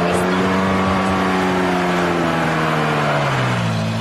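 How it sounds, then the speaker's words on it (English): Dented Ferrari racing off, a loud continuous engine roar with rising then falling pitch as it accelerates away, steady and close throughout. "Undeterred, Sarah races off in the dented Ferrari"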